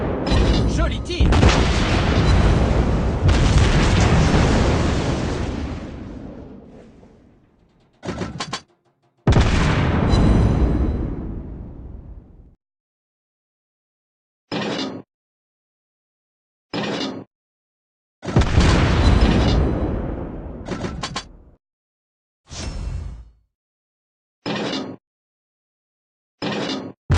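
Heavy battleship guns of the Kawachi fire in World of Warships Blitz: loud booming salvos and explosions with rumbling tails, then shorter single blasts separated by silence.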